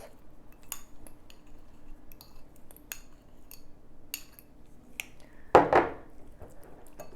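A spoon stirring aspirin into half-mashed avocado in a bowl, with sparse light clinks against the bowl over quiet background, then a louder scraping, squelching burst near the end.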